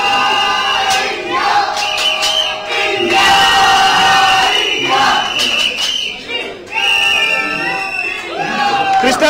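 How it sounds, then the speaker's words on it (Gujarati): Office employees loudly cheer and whoop for the Indian cricket team during a World Cup 2015 semi-final against Australia, a sustained crowd roar with rising shouts and brief dips. "ચીયર્સ કરી રહ્યા છે ઇન્ડિયન ઓફિસ ટીમને"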